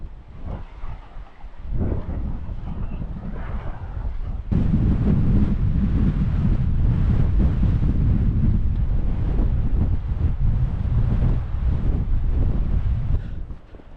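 Strong coastal wind buffeting the microphone at Studland, a loud roaring rumble that grows heavier partway through and then stays dominant to the end, with no voices.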